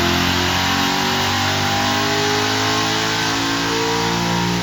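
Stock Corvette C6 Z06 engine held at a loud, steady high rev on a dyno, a dense sustained roar with strong low harmonics that stays constant without pauses or talk.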